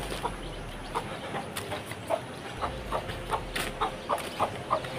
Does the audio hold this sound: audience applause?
no